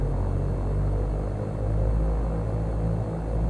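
A simulated Cessna piston engine holds a steady 1700 RPM run-up with the mixture rich, a continuous low droning hum with a slight slow pulsing and no talking.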